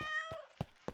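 A cat meows once in a zoo video game with a clear, tonal cry, followed by a couple of soft thumps in an otherwise quiet space.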